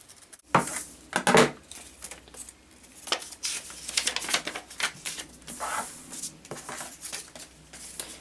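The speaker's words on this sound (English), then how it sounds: "take my scissors and cut." Scissors snip through fabric while a cloth pad is being cut out, giving a string of crisp, close cutting sounds in short bursts with brief pauses between them.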